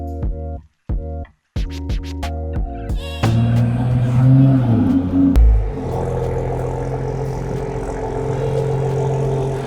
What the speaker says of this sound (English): this is my personal 2020 Toyota Supra Premium